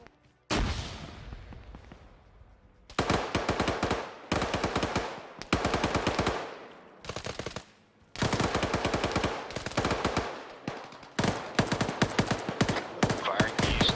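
Gunfire in Arma 3: long rapid bursts of loud automatic fire with short pauses between them, close and sharp, with a brief voice in the background.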